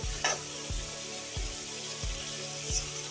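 Potol posto frying in a pan after a little hot water is poured in, giving a steady sizzle with several soft stirring knocks spaced through the clip, close and alone.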